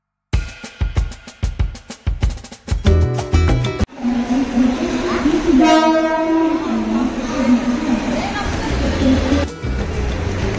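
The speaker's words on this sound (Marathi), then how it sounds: "हा तर मित्रांनो ट्रेन आलेली आहे आता।" Rhythmic clacking of wheels over rail joints, then a loud sustained train horn as a train rolls into a station close by, with rumbling carriages underneath.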